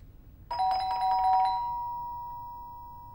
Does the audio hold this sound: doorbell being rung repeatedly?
yes